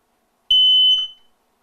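A carbon monoxide alarm gives a single loud, piercing test beep of about half a second, then a brief chirp as it fades, alone in a quiet room.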